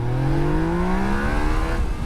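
A Yamaha Niken three-wheeled motorcycle with the 847cc FZ09 engine accelerates hard, its engine note climbing steadily in pitch through a continuous loud rev with no talking.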